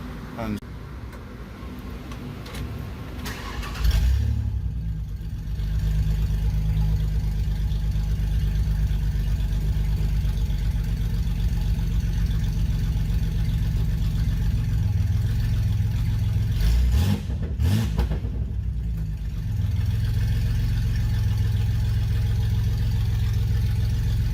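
A steady, low truck engine idles close by on a dyno, droning evenly with a brief surge partway through, and no voices over it.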